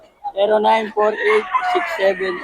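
Roosters and hens at a poultry market in Bocaue: a loud nearby rooster crow followed by overlapping clucks and squawks, dense and close across the whole stretch.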